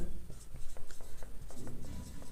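Chalk tapping and scraping against a classroom board during a chemistry lesson, a run of short strokes roughly evenly spaced, close and fairly faint, with a little room noise beneath.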